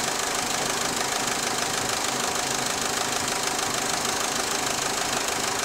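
A car engine idles steadily with a faint knocking tick, connected to a camshaft scope test, running continuously at a constant level throughout without any voices.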